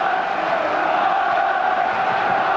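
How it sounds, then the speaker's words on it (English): German supporters in a packed stadium crowd at the 1990 World Cup final between West Germany and Argentina, a steady, dense roar of applause and crowd noise that holds at an even level throughout. "Applause from the German supporters."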